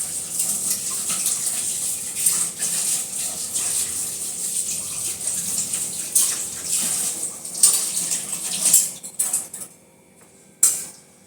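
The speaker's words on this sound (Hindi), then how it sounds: "चलो निकाल लेते हैं इसको और इसको धो लेते हैं" Tap water runs steadily into a kitchen sink as vegetables are rinsed, a broad continuous gush with a few clattering handling noises, stopping briefly near the end before a last splash.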